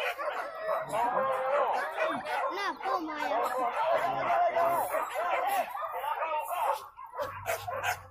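Dogs on a road yip and whimper in quick, excited bursts close by, overlapping with people talking throughout, the noise easing off near the end.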